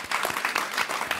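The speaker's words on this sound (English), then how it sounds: "Give that a round of applause." A seated audience at an agriculture and climate resilience panel breaks into steady applause, dense overlapping claps at moderate volume filling the short moment without talk.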